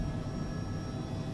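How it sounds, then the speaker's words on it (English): A Black Hawk helicopter lifting off in Microsoft Flight Simulator, a thick continuous turbine and rotor roar with a low rumbling throb, loud and steady through a brief moment, no voices. "Taking off."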